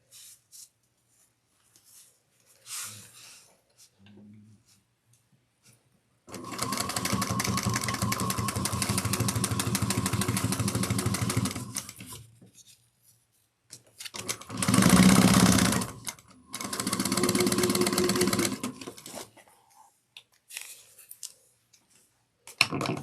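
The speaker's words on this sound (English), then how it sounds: "we're going to sew them at 3/8 of an inch" A sewing machine stitches fabric wings onto a Carlotta Commuter piece at a 3/8 inch seam, running in three bursts, one long and two short, with quiet handling noises between and no talking.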